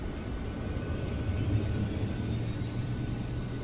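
Auxiliary power unit of an iFly 737 MAX8 airliner spooling up in the MSFS 2024 flight simulator, a steady low rumble and whir that holds evenly throughout with no talk over it.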